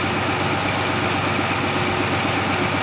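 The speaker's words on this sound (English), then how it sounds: "how this engine runs and how it sounds" A 1985 Toyota Supra engine idles steadily and smoothly, a close, even rumble with no revving or voices.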